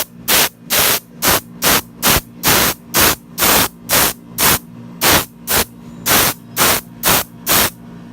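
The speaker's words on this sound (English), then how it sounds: "let's spray it with the polyurethane" Polyurethane finish sprayed from an aerosol can onto a Damascus steel knife blade, heard as a long series of short, loud hissing bursts in a steady rhythm, close by, with a low hum underneath and no talking.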